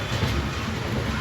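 Madgaon Express passenger train running on its journey, a steady low rumble with faint rhythmic wheel clatter heard from inside a coach, moderately quiet and without talk.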